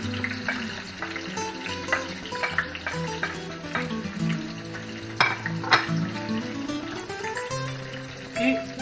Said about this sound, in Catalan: I ara anem a sofregir la sèpia